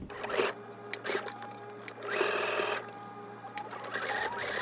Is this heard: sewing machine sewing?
yes